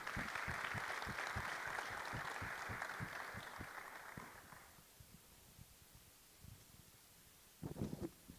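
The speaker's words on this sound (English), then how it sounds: "Let's give him a big round of applause." Audience applause at an annual meetings event as a commissioner general is welcomed to the podium, steady clapping for about five seconds that fades out, followed by a few scattered bursts near the end.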